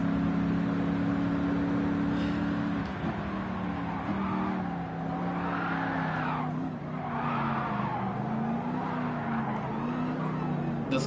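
A race car in Gran Turismo Sport drives at speed, its engine tone droning steadily and rising and falling through gear changes, with brief tire squeal, alone and without talk.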